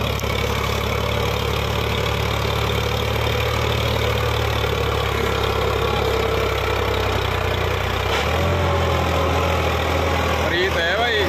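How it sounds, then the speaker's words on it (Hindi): A fully loaded Preet 955 tractor runs with a loud, steady diesel drone and deep low rumble that shifts in pitch partway through, while voices talk over it. "फुल लोडिंग ट्रैक्टर है,"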